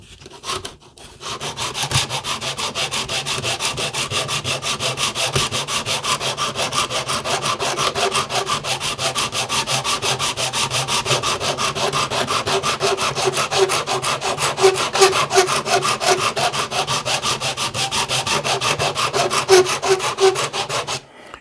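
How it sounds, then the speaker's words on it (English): Wood being sanded with a flat sanding block on a Bluenose schooner model hull, a steady rapid back-and-forth rasping that continues close and loud for the whole stretch without pause. "You can actually see which are the high ones when you're sanding with the flat block"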